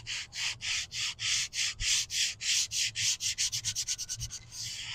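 Sandpaper of 100 grit scrapes back and forth over deer rawhide backing on a juniper wood bow, making steady rasping strokes close by that quicken into short, rapid rubs toward the end.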